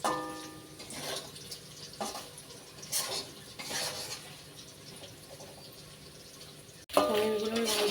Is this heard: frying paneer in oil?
yes